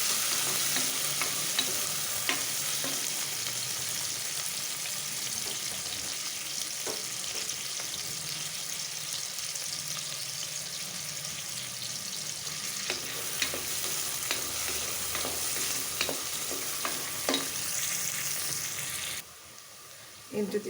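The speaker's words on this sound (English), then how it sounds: "So it will also help the onions to fry up nice and brown and quickly too." Onions frying with rock salt in a pan give a continuous, moderately loud sizzle with scattered scrapes and taps from stirring, steady for about twenty seconds, dropping briefly just before the end; no voices heard.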